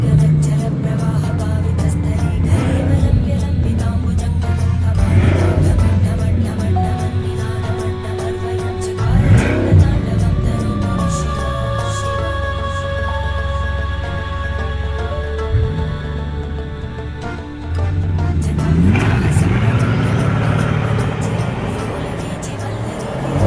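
Bugatti Chiron supercar with an almost 1,500 brake horsepower engine, a loud, close, deep engine roar that rises in pitch through repeated acceleration sweeps.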